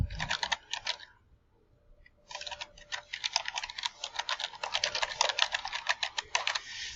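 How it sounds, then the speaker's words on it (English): Rapid clicking keystrokes on a computer keyboard, a short burst, a pause, then a longer steady run of typing, close and clear. "And now you're going to type the title."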